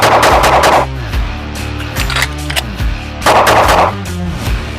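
Loud gunshots from a Shadow Systems CR920 pistol fitted with a CR920X slide, two clusters of rapid sharp reports separated by a quieter stretch, close and echoing as if on an outdoor range.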